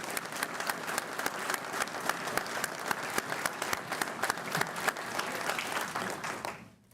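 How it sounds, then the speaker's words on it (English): Audience applause at a graduation ceremony: a crowd claps steadily with some sharp individual claps standing out at close range, sustained for several seconds before cutting off abruptly at the end. "Let's get a round of applause."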